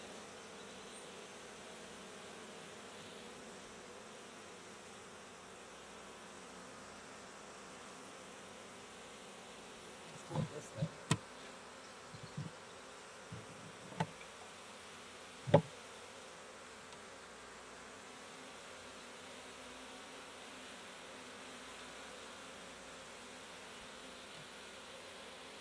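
Honeybees hum faintly and continuously around an open Layens hive, with a few short, louder buzzes from bees flying past close by in the middle of an otherwise quiet, even drone.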